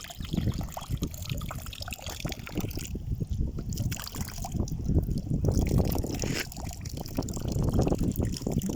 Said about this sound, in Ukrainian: Ось така водичка тут зараз.